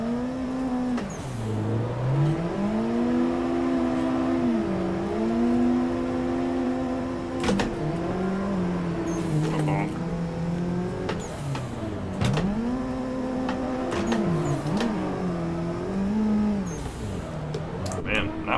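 Simulated car engine cruising in Assetto Corsa during freeroam, a steady drone whose pitch rises and falls with gear changes and throttle, loud and continuous with brief shift dips.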